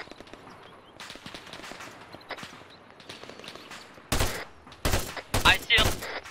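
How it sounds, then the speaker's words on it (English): Gunfire in the video game ARMA 3, with rattling shots and distant cracks giving way to several loud, close bursts of automatic fire near the end. "I'm still getting shot at"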